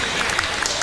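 An audience at a Super Smash Bros. Ultimate tournament grand finals claps in a short burst of steady applause, with a commentator talking over it.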